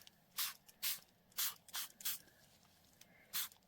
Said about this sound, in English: So let's spray this and get a little bit of movement